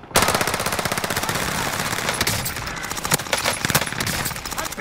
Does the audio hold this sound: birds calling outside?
no